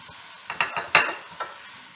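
One large onion frying in a tablespoon of oil: a few quick scraping stirs of a spoon in the pan over a soft, steady sizzle, close and fairly quiet.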